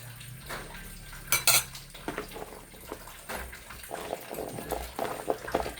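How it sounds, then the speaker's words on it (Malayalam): Chopped ash gourd pieces are scooped into a pot of cowpeas cooked with salt, giving clattering pot and utensil knocks and scrapes in irregular bursts, close by, with a sharp clang near the start. "കുമ്പളങ്ങ നമുക്ക് ഇതിലേക്ക് വാരിയിടാം"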